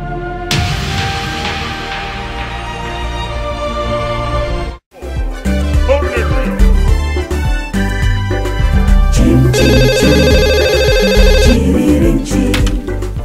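A telephone ringtone rings loudly and close, a melodic electronic tune repeating with a brief gap midway before the call is picked up.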